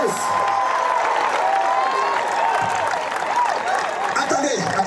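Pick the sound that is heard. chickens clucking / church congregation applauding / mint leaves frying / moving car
church congregation applauding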